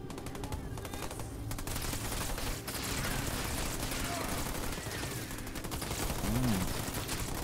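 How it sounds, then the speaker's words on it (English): Dense, continuous gunfire from ground troops in the strategy game Halo Wars 2, with rapid machine-gun bursts layered into a loud, steady battle din alongside game voice lines and talk. "Under fire from ground troops."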